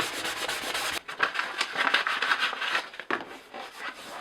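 Fine 400-grit sandpaper rubbed by hand along the wooden handle of a vintage W&B Co. sledgehammer, with brisk back-and-forth scratchy strokes close up after a brief pause, and no voices.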